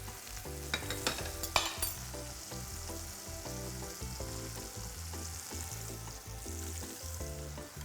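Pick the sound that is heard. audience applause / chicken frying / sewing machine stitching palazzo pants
chicken frying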